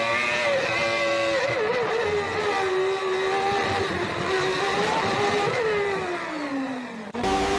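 F1 car racing through the streets of Monaco, a loud high-pitched engine whine that holds, wavers and dips in pitch as it shifts, then cuts off abruptly near the end.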